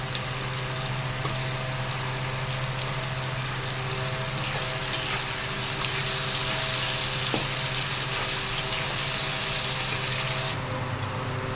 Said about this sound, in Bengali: ওই আলুটা একেবারে দিয়ে ভাজতে থাকবো